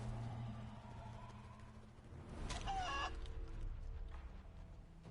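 A chicken in the video game Divinity II clucks and gives a short crowing call, faint and mid-distance over a low steady background hum, with no voices.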